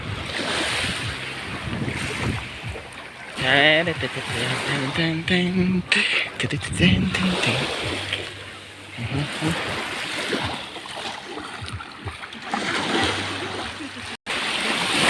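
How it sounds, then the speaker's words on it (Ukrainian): Sea waves wash in over bare feet on a Bulgarian beach, a steady surf rush mixed with wind buffeting the microphone, while people talk close by through most of it. "Коли водичка так тобі поливає по ножкам."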